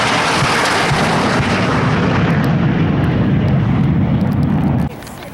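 A simulated bomb explosion roars during a military jet demonstration pass at an airshow, a loud, sustained rumbling blast with jet noise that cuts off abruptly near the end.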